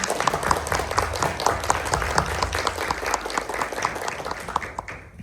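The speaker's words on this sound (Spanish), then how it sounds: "quisiera por favor que le dieran un fuerte aplauso a estas personas que estuvieron en este evento" A crowd at a school event gives a strong, steady round of applause for a librarian and teachers. Dense clapping fills the room without letting up and thins only in the final moment.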